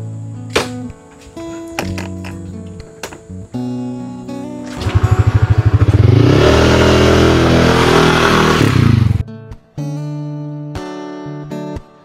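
A motorcycle engine revs loudly in a dense, sustained burst lasting about four seconds midway, rising from a rough idle, set between stretches of music with no talk over it.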